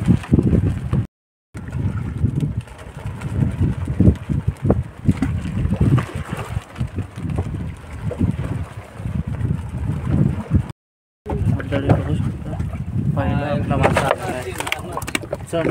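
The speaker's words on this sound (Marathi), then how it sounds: "वारा भरपूर झाला आहे." Strong wind buffets a small fishing boat out on the water near Barshiv village, a loud, rough broadband rumble that runs almost continuously, broken by two brief dropouts, with voices talking over it.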